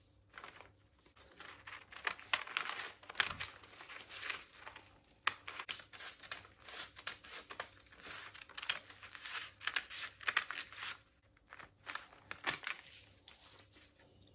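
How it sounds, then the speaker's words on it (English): Scissors cutting an inverted Queen Anne neckline from a fabric top, a quiet, close crinkly rustle of cloth and blades in irregular bursts, no talking. "Now we are going to cut the neck out."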